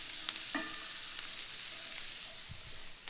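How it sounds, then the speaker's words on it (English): Onions sizzle in fat with salt in a pan while being stirred, giving a soft continuous frying hiss with a few scraping clinks, close but fairly quiet, no voices. "And I'm going to go ahead and stir these onions to coat them with fat."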